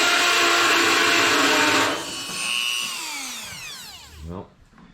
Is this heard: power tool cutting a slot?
yes